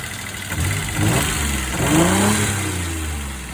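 A 1992 Toyota 4Runner engine idles low and steady, a close, continuous mid-pitched rumble with slight wavering in pitch and no talk.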